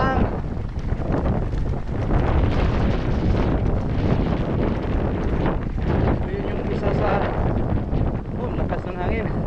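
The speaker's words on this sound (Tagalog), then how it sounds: "Lakas ng hangin." Strong wind buffets the microphone while mountain biking in Alamada, North Cotabato, in a constant loud rumbling roar, gusting unevenly throughout with faint voices buried beneath it.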